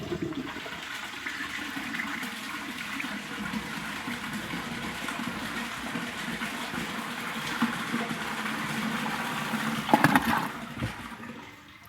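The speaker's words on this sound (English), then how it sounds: "Now I'll also demonstrate how little water these can flush on." A yellow 1979 Norris toilet flushes on only a little water in the tank, giving a sustained close rushing swirl with a brief louder gurgle near the end before it fades out.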